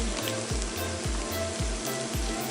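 Curry powder sautéing with an onion mixture in a pan, a steady close sizzle throughout with a regular low rhythmic thumping repeating about every half second underneath.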